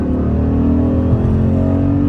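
A Chrysler 300 SRT8 V8 engine holds a loud, steady drone under acceleration as the automatic transmission lingers high in the rev range before shifting, heard up close from the cabin with no voices.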